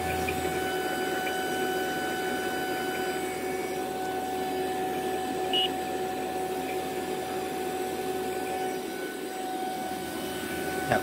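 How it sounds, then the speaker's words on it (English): A Fieldpiece vacuum pump draws a refrigerant recovery tank down to vacuum, running as a steady, even mechanical drone with a faint whine for the whole stretch, close and unbroken. "Vacuum pumps are the bomb."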